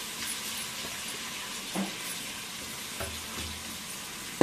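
Mint, coriander and curry leaves fry in hot oil with a steady low sizzle and hiss, broken by a couple of brief stirring scrapes, close and fairly quiet.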